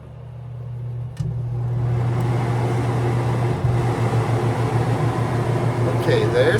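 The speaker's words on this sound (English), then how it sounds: "Here, just for fun, I'll turn on the big air conditioner since I plugged in, and you can hear the difference." A large air conditioner starts up and runs with a steady, loud hum and airflow roar that swells after a click, with a person talking over it.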